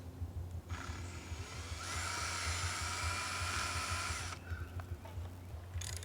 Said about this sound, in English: we're just going to go ahead and drill our pilot holes.